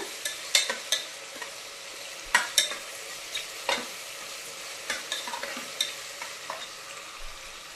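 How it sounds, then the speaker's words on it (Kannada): Onion and tomato frying for chicken dum biryani, a soft sizzle under repeated distinct spatula knocks and scrapes against the pan, close by, irregular in rhythm, with no voices. "ನೀರುಳ್ಳಿ ಟೊಮೆಟೊ ಫ್ರೈ ಆಗಬೇಕು"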